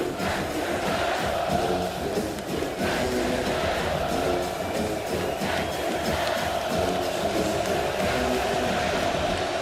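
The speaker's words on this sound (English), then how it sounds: "just look at this crowd. I mean, look at them. They're at full decibels right now." A packed stadium crowd at a Texas vs Florida college football game roars loudly and continuously, a dense wall of cheering and shouting with no break.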